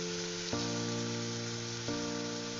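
Spice paste of ground coriander, cumin, salt, turmeric and chilli powder with a little water sizzling steadily in hot oil for a tilapia curry, a constant close frying hiss with two brief stirring bumps.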